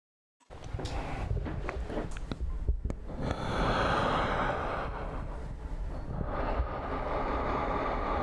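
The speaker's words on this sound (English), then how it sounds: "Obviously that's very exaggerated breathing" An exaggerated breathing sound effect, heavy, drawn-out inhales and exhales, sits over a looping, airy background ambience that fades in and runs steadily for several seconds.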